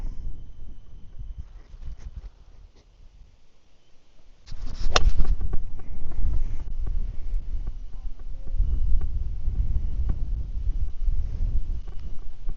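A headwind blows across a seaside golf course by the sea, roaring as a low, gusty rumble into the microphone. It dips briefly, then returns stronger and stays steady and buffeting.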